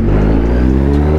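Kawasaki Z1000 motorcycle engine roaring loud and close under hard acceleration, a steady dense low growl with strong harmonics held throughout without a break.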